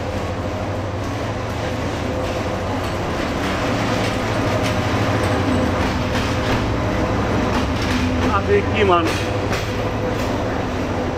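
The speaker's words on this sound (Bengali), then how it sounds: "এখন দেখি কোন ট্রেন এসে দাঁড়ায় এই ঢাকার বিমানবন্দর রেলওয়ে স্টেশনে" A train pulls in at Dhaka Airport railway station at night, a steady loud rumble of rolling carriages with brief squeals near the end, while people talk nearby on the crowded platform.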